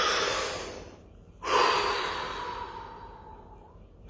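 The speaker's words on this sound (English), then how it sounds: "Take a deep breath." One slow, deep breath, close and audible: a long inhale followed by a drawn-out exhale that fades away.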